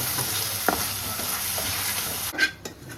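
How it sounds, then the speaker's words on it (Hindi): A tadka of spices tempering in hot oil sizzles and crackles steadily, with a few sharp spits and a sudden burst of hissing near the end. "तड़का ऐड किया जा रहा है अभी।"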